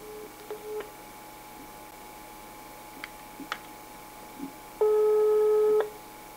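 Telephone handset after a dropped call: a few soft dial clicks and beeps, then a loud steady two-tone busy signal lasting about a second, alone with no talk.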